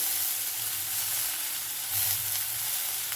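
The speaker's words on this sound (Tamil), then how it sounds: "தக்காளி நல்லா வதங்கட்டும்" A large tomato with salt frying in a little oil for a garlic chutney, a soft, steady hiss and sizzle close by, constant throughout with slight swells and no voices.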